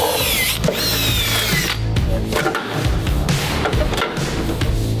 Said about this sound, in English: we're gonna drill those out